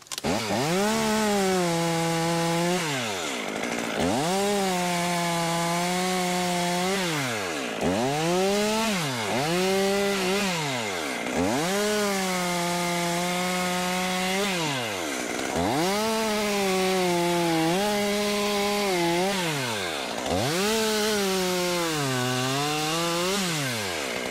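A top handle chainsaw cutting wood, running loud and close with its pitch dipping under load and rising again in repeated cycles, continuous throughout with no talk.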